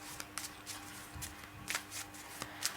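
Lenormand cards are shuffled by hand in soft, close riffles and taps that come in short irregular bursts, fairly quiet and with no talking.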